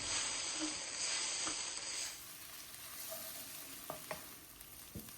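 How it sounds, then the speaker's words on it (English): Ginger and garlic paste fry over a medium flame in a curry pan, giving a steady hissing sizzle with scattered stirring scrapes and clicks that drops a little in level partway through. "I'm just going to add my ginger and my garlic paste. Mix that through and cook that out for another couple of minutes."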